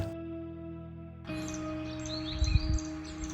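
Birds sing in the morning hills of Lansdowne, Uttarakhand: faint, high chirps and short calls over a steady, soft tonal drone, with a low rumble near the end.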